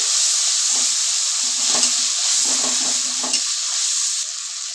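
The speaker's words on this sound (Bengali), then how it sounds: "এবার তো মশলাটা ভালোভাবে কষিয়ে নেব" Spice paste with turmeric and salt being sautéed in a pan for rohu fish curry with potato and pointed gourd, a loud steady hiss with short bursts of scraping from a spatula.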